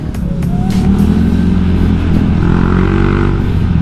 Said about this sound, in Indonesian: Tapi pemilihan knalpotnya tuh suaranya agak aneh ya, cenderung agak cempreng dikit, tapi tenaganya dapat